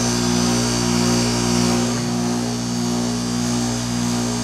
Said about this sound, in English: There's the new fan motor.